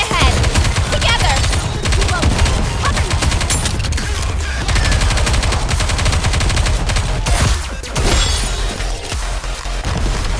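Dense, loud gunfire from the shooter game Goddess of Victory: Nikke, rapid bursts and sustained automatic fire overlapping almost continuously, with brief dips before the barrage resumes.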